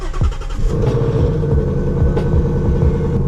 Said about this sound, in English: Make sure the car starts.